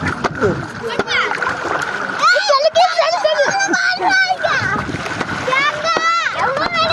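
Children bathe and splash in open water outdoors, with continuous splashing and sloshing under lively, overlapping children's voices and shouts close by.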